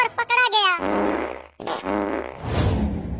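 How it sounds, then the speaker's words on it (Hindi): Cartoon fart sounds, a quick series of short sputtering blasts followed by longer loud raspy farts, close and prominent with no talk over them. "अबे ए लड़का, मेरे मुंह के पास मत पाद।"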